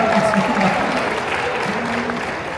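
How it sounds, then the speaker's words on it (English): Brief applause from an audience at a Disneyland Paris fan event, a steady moderate patter of clapping lasting a couple of seconds, with a faint voice audible underneath. "Vous pouvez applaudir si vous voulez."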